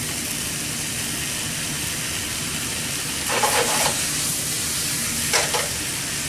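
Salmon teriyaki stir fry sizzles loudly and steadily in a pan, broken by a couple of brief scraping bursts as the food is tossed, with no talk.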